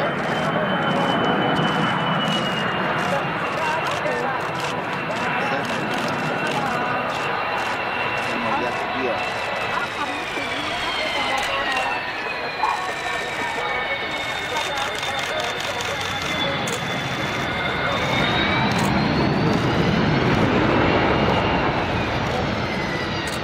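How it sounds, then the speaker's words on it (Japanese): A Kawasaki C-1 tactical transport aircraft makes a short landing at the Miho Air Base air show, a sustained loud jet roar with whining turbine tones that slowly fall in pitch and swell again near the end. "本日は設置してから停止するまで450m という短い距離で着陸するところをご覧いただきます。"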